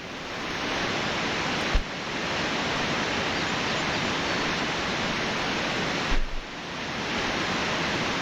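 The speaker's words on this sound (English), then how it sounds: "So the waterfall noise, super loud, a little bit annoying." Loud, steady rushing water roars continuously from a close waterfall in the video game The Talos Principle, with a couple of faint dull thumps.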